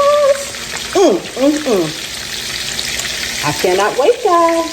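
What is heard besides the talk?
pork rind crusted chops frying in a pan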